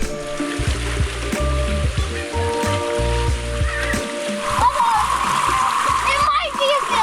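Water splashing as people wade through a foot or two of floodwater on a rain-soaked jungle trail beside a river in Belize, continuous and close, with voices talking over it.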